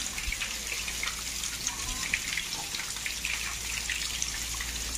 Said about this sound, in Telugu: సింహాల నోటి ద్వారా నుంచి వాటర్ పడేటట్టు ఇక్కడ కొలను పెట్టారు